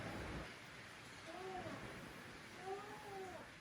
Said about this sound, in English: Rain's pouring down.